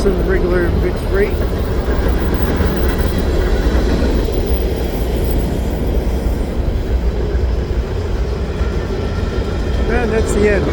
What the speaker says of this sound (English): Oh, there's some regular mixed freight.